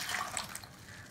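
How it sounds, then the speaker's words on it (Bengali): Water runs and splashes as potatoes cut for french fries are rinsed in a strainer, a steady close hiss with small drips and sloshes throughout, no voices. "এবার আর একটু ভালো জল দিয়ে ভালো করে আলুগুলোকে ধুয়ে নেব।"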